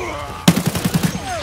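A fast burst of automatic gunfire in Escape from Tarkov, about eight close, punchy shots in quick even rhythm, with speech around the burst.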